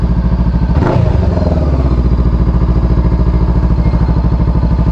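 A crashed motorcycle's engine cranks with a thump and catches, then idles loudly and close in a fast, steady, uneven putter for several seconds.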